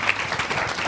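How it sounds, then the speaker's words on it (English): Brief round of clapping from a panel audience for the panelists, a dense patter of many hands lasting about a second at moderate level, with no voices. "I'm going to try to clap and hold the microphone at the same time"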